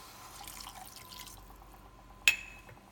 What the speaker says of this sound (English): So now I'm going to pour in the liquid.